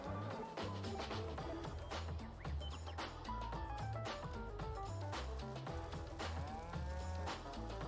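Cows low repeatedly inside a cow barn in Farming Simulator 22, the moos overlapping with background music and steady game ambience.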